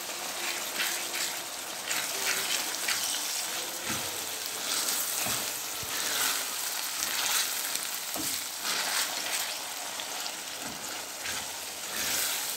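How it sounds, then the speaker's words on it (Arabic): Ground meat and garlic sautéing in a pan for a meat-filled phyllo dish, a steady close sizzle and frying hiss with occasional stirring scrapes and clinks, no talking. "نسيبها تتشوح مع بعضها كده، والوقت هنحط التومة اهي"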